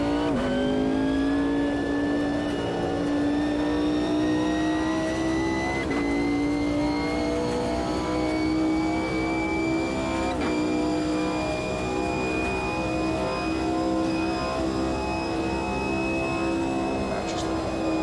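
The engine of a GT1 race car in Automobilista 2 at Spa 1993 holds a loud, steady high-revving drone that slowly climbs in pitch, with brief shifts, under faint talk.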